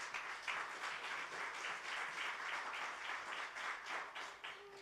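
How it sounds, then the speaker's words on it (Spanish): A church congregation claps during a worship service, a faint, evenly pulsing rhythm of hands heard from a distance for several seconds. "Dale un aplauso al Señor."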